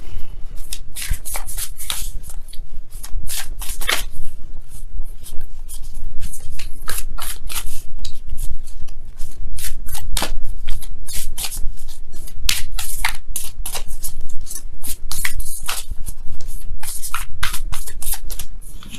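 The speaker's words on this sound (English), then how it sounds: "let me go ahead and really shuffle." A deck of tarot cards is shuffled vigorously and continuously, with dense, rapid riffling and flapping at close range, steady and loud throughout with no talking.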